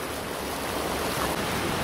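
The Río Verde in Granada flows as a steady, full rush of river water, close and continuous with no voices.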